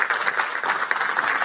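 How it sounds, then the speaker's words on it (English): An audience at a digital health tech forum gives a brief burst of applause for a panel, a quick fluttering run of close claps with a rapid, uneven rhythm. "Another round of applause for them."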